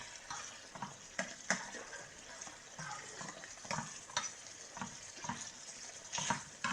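Tuna and eggs frying in oil in a pan, a steady close sizzle with intermittent stirring and scraping accents throughout.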